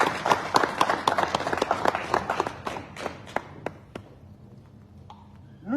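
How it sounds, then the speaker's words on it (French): An audience applauds at a launch event for a political movement's project in Bordeaux: dense, close clapping that thins out and fades into scattered individual claps before falling quiet. "Applaudissez pour vous-même."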